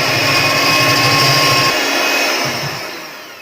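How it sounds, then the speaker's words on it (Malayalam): An electric beater whips 1.5 cups of whipping cream at low speed for a chocolate mango cake, a loud steady motor whine close up that drops off and fades toward the end. "ഇനി നമുക്ക് ആദ്യത്തെ 1 മിനിറ്റ് ലോ സ്പീഡിൽ ഒന്ന് ബീറ്റ് ചെയ്തെടുക്കാം"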